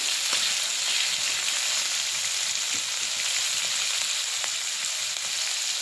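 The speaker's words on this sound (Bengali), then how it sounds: "মাছটা ভেজে নিচ্ছি, বেশি ভাজবো না, হালকা করে ভাজবো" Fish sizzling lightly in a frying pan, prepared alongside prawns and jute leaves, a steady close hiss with faint crackles running evenly throughout, no voices.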